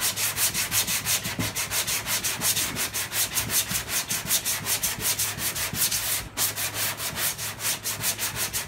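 Body putty is block-sanded by hand on a Toyota Camry panel before primer, a steady rhythmic rasping of long back-and-forth strokes, close and alone.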